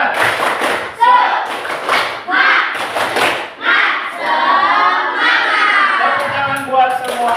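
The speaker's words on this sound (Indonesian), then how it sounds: "Oke, tepuk semangat." A classroom of pupils performs a rhythmic spirit clap, loud bursts of clapping and thumping in a patterned beat mixed with children's chanting and shouting voices.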